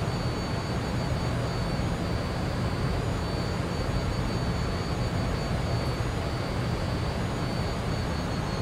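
Jet engines of a Just Flight F28 Professional airliner in Microsoft Flight Simulator, cruising in flight as a steady, even broadband roar with a faint high whine, unbroken throughout.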